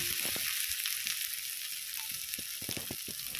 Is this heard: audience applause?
no